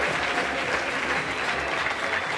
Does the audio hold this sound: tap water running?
no